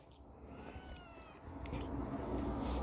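Burmese kittens meow in faint, thin rising cries, a few short calls close by over a soft rustling background.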